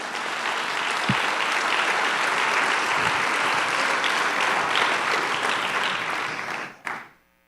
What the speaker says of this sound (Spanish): Si le vamos a dar un aplauso,